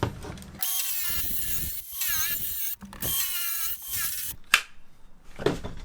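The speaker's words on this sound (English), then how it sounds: "We can then cut it out with this little cordless saw." A small cordless saw cuts an opening in tongue-and-groove wall sheeting, giving a loud whining buzz in several bursts with short pauses and a sharp clatter near the end.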